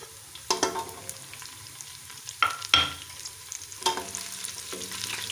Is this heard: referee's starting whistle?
no